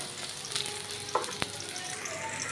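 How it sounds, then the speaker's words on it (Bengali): Chopped onions sizzle in hot oil as they are browned for a hilsa and cucumber curry, a constant close frying crackle with a few sharp stirring clicks. "আর এই যে এখন আমি পেঁয়াজটা একটু লাল করে নেব।"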